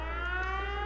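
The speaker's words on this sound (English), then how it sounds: "Also powering the alarm siren." A settlement alarm siren in Fallout 4 at Sanctuary drones as a steady, loud, unbroken electronic tone with layered harmonics, holding constant throughout without any voices.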